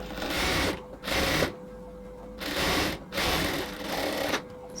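A sewing machine double-stitches a shoulder seam on a garment, running in four steady bursts of rapid mechanical whirring separated by short pauses, close and alone without talk.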